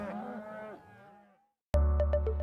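A stressed calf, worn out from being run through a cattle chute repeatedly, lets out a loud, strained moo that wavers and fades, then breaks off. After a short silence a second loud, harsh bellow starts abruptly and holds.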